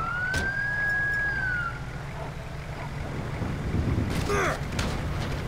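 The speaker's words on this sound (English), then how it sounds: "And the ambulance is going to run over us." An ambulance siren in Grand Theft Auto V wails in a rising-and-falling sweep, then fades under the game's traffic and engine rumble, with a second short burst of siren near the end.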